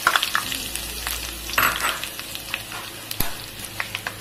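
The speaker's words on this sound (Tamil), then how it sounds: "நம்ம எடுத்து வச்சிருக்க வரமிளகாயை எண்ணெயிலேயே சேர்த்துக்கோங்க" Dried red chilies drop into hot oil after mustard seeds for chicken aasari varuval, giving a close crackling sizzle with sharp spits and pops, several louder bursts, and a stir or two, with no speech.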